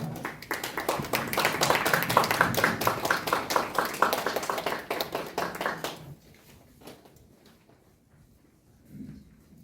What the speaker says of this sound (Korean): 박수로서 환영해 주시기 바랍니다.